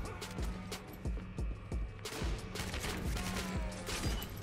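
Rapid gunfire in the Gotham City Impostors video game, a steady run of sharp repeated shots rattling continuously throughout, loud and close with no talking.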